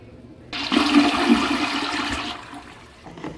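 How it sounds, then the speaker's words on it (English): Dirty water from a Mop Robo robot mop, carrying corn bits, gushes loudly into a trash can in a steady splashing pour lasting a couple of seconds, then trails off to drips. "this filthy, dirty water is going to go straight into the trash can"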